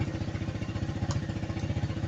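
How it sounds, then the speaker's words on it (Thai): A Suzuki Hayate motorcycle, just started during a workshop service, idles close by with a fast, even, pulsing putter and a light mechanical clatter. "เครื่องยนต์ติดแล้วนะครับ"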